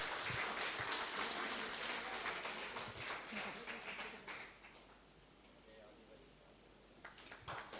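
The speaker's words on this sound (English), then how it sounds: "A huge round of applause for our winner." Audience applauding a Hindi poetry competition winner at a B.Tech student induction programme, a dense wash of clapping that is loud at first, then thins and fades, with a few claps returning near the end.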